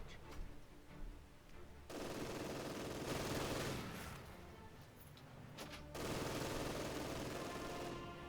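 An MG crew fires a machine gun in the World War II strategy game Company of Heroes 2, with sustained loud bursts of automatic fire and battle noise that come in long stretches with brief lulls between them.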